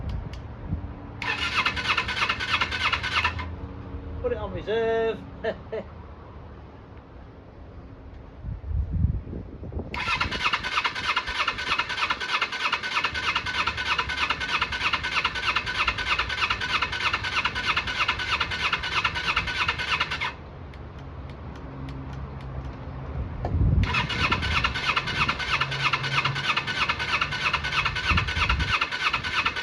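A Kawasaki Eliminator EL 250 motorcycle under restoration is cranked on full choke in long buzzing bursts that fail to catch, separated by pauses, with a brief spoken remark between attempts.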